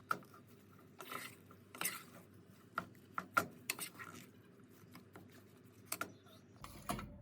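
A spoon scrapes and clatters in a pan as about 1000 g of minced meat is stirred with ghee, softened onions, salt and pepper for freezer-ready kibbeh; the scrapes come irregularly over a low background hiss, fairly quiet, with no talking.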